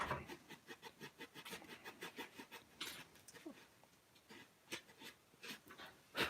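Wood being sanded by hand, the quiet rhythmic rasping strokes repeating steadily with brief pauses, close and faint.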